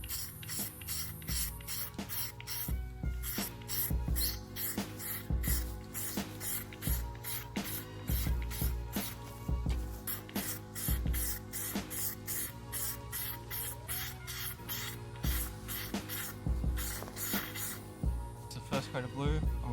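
Rapid repeated hissing bursts of an aerosol spray can applying a blue coat to Subaru STI fog light covers, steady close spraying pulses throughout with no talk.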